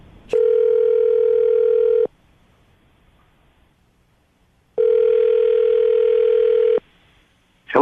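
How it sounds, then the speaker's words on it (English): Steady telephone dial tone before a call is placed, sounding twice in long unbroken stretches of about two seconds each, separated by near silence, loud and clear with no talking. "I'm going to dial the phone number right now"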